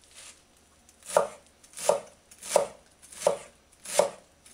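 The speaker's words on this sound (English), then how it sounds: "So now I'm gonna chop my parsley." Fresh parsley is chopped by hand for Lebanese tabbouleh in five evenly spaced, firm chops on a board. Each chop is close and distinct, with short quiet pauses between them and no talking.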